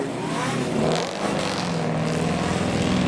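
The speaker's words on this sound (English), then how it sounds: "Revolutions from the Quattro. Lovely 5-cylinder sounds. I hear a turbo." An Audi Quattro's turbocharged five-cylinder engine revs at a car meet with a steady, throaty drone that swells briefly and then holds. Outdoor crowd noise sits underneath.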